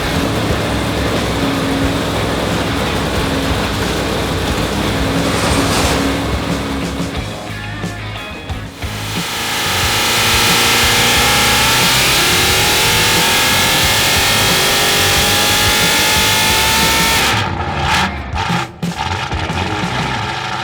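A Big Block Chevy V8 on a dyno, loud and close, holding a steady roar, dropping briefly, then climbing through a long rising rev sweep before cutting off sharply and picking up again.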